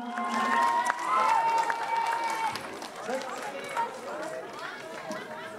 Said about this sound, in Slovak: Zatleskajte si, priatelia, ste super.